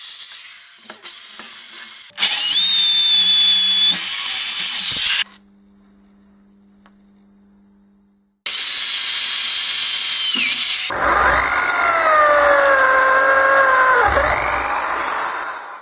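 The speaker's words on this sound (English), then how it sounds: "Next another 12mm hole was drilled through them." A drill boring a 12mm hole through steel plates, long loud whining stretches with a rising metallic squeal, broken by a pause with a low motor hum, close and without talk.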